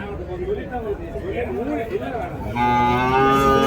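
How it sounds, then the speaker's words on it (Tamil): Cattle moo at a rural livestock market where calves and cows are sold, with a loud, drawn-out low moo rising near the end over steady crowd chatter and a nearby voice talking. "ஸோ ஒரு நாட்டு கண்ணுங்க, காளை கண்ணு."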